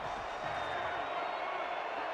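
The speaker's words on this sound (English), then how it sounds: "The San Jose crowd's getting loud" A stadium crowd in a football video game, with the San Jose home fans roaring in a steady, broadband wash that stays fairly faint and even throughout.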